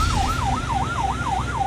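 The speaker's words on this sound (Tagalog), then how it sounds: "Dinig na dinig ang sirena mula sa barko ng China Coast Guard sa karagatang malapit sa Bajo de Masinloc." A China Coast Guard ship's siren sounding at sea near Bajo de Masinloc, a loud wailing tone rising and falling in a steady repeating cycle about every third of a second over a low engine rumble.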